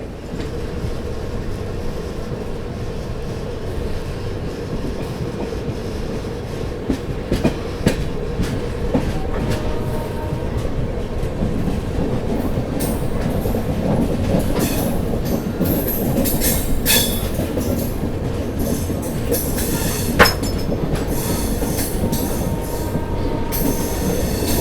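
The 12556 Gorakhdham Superfast Express runs on the rails into Gorakhpur, heard from on board as a continuous loud rumble of wheels with rhythmic clicking over joints and occasional metallic squeals.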